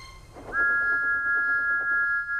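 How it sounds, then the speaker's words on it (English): Thomas the Tank Engine's steam whistle lets out a single, clear, sustained high blast after a brief breathy start, held steadily over quiet background noise. "Thomas's whistle soon woke them up."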